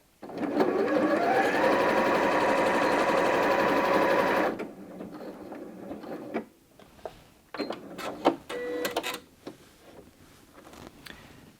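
A Janome M200 QDC sewing machine stitches a decorative pattern in a loud, steady run for several seconds, then stops and finishes its securing stitches, followed by scattered clicks and handling knocks.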